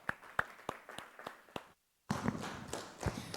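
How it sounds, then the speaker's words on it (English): At an opening ceremony, a few scattered, distinct claps sound in the hall, then a short silence, followed by a denser burst of clapping and shuffling from the audience. "Give him a round of applause"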